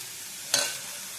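Chilies and garlic drop into hot oil in a pan, giving a brief soft sizzling burst that quickly fades to a quiet background hiss.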